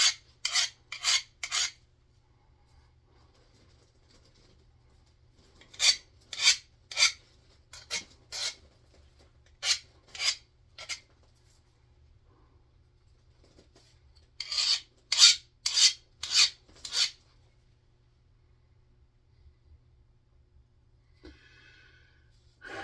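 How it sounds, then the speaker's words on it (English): A metal file rasps across a chisel edge while it is sharpened during door hanging work, in three close, rhythmic bursts of several strokes each, separated by quiet pauses. "you can take your file, you go one side, and then you go the other"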